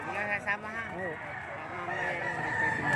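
A rooster crows with wavering calls amid the noisy bustle of a livestock auction market in Padre Garcia, Batangas, with people talking close by throughout.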